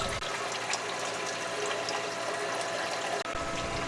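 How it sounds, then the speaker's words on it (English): Water carrying sand and silt pours from a hose into a 5-gallon bucket near a calcium reactor and sump, a steady close splashing gush with no voices. "We're going to allow that to flow into a 5-gallon bucket."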